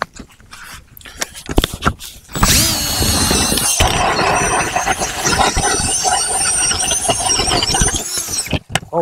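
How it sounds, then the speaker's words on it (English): A power auger bores through thick black lake ice with a loud, sustained grinding whine that rises with squealing overtones, followed by a few scattered knocks and clunks. "So let's drill a hole and see what we got."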